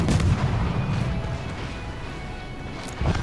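Naval guns of the destroyer Shiratsuyu fire in World of Warships as a dense, loud rumbling barrage of booms that runs continuously, with a fresh heavy blast near the end.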